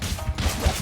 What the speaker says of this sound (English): Smashing those boxes up now and everything